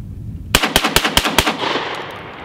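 An Ohio Ordnance Works BAR 1918A3 rifle fires a rapid burst of five loud, evenly spaced shots that echo and decay afterward.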